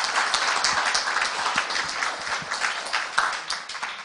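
Steady applause from an audience, a dense wash of many hands clapping at an even level throughout.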